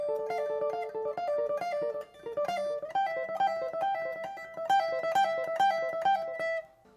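Fingerstyle electric guitar lick built on triad shapes, plucked without a pick: quick, steady runs of bright, clearly separated notes repeating in phrases for several seconds, up close and alone.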